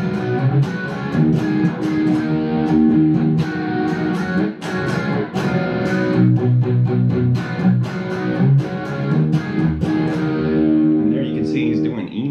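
Electric guitar plays the main riff of a song, built on extended chord voicings with a full, driven tone, strummed in steady rhythmic bursts and sustained close and loud throughout, with no voice.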